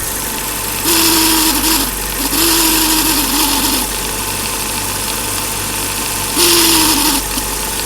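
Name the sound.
BMW E30 engine running with noisy distributor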